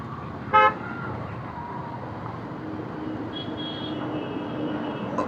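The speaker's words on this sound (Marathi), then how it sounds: "तर इथे ट्रॅफिक लागली." Road traffic on a city road heading into Mumbai: a low steady vehicle rumble with one short, loud car horn toot near the start and a fainter tonal honk later.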